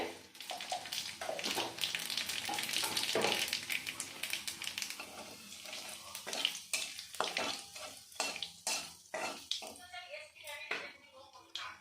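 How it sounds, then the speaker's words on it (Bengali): Nigella seeds (kalo jire) with two dried red chillies tempering in hot oil, a steady crackling sizzle in the first half giving way to separate stirring and utensil clinks; a voice speaks during it. "আমি ফোড়নও দিয়ে দেব একটু কালো জিরে"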